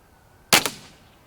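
A single sharp airgun shot rated at 11.5 foot-pounds fires into a block of clay, a loud close crack with a quick second transient and brief decay, then quiet.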